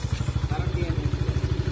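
A motorcycle engine, likened to a Honda TMX, idles nearby with a fast, even low-pitched putter throughout, while people talk over it.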